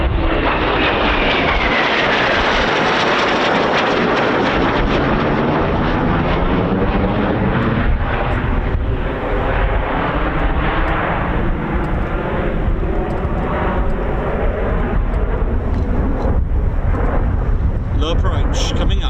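An RAF Eurofighter Typhoon FGR4 jet makes a low approach at night at RAF Coningsby, a loud, roaring engine rumble that swells and then stays heavy and continuous, close overhead, with no voices.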